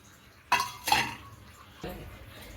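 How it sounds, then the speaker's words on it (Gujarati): Fermented dhokla batter being ladled from a pot into a separate dish, with three distinct clinks of a metal ladle against the vessel, close and fairly quiet in a home kitchen. "તો અહીંયા આપણે બેટર અલગ કાઢી લીધું છે"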